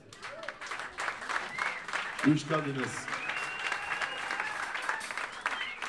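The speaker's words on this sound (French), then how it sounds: "qui nous demandait d'accueillir sous un tonnerre d'applaudissements Madame Sibel Kessé" An audience welcomes a singer with sustained applause, many hands clapping steadily, joined by scattered whoops and cheers, and a voice briefly calls out partway through.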